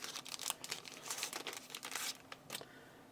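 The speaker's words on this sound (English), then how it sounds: "let's tear into this Heraeus silver bar here" Plastic packaging around a Heraeus silver bar crinkles and tears close by in quick bursts that fade toward the end, with no talking.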